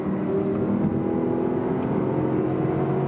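Engine of an Audi R8 supercar, a steady, loud droning hum with a low rumble, sustained evenly throughout without revving peaks and without any talk.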